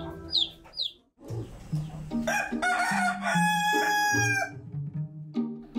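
An Ayam Cemani rooster crows loudly and close by, one long strained call that rises and holds, with brief chirps and clucks before and after.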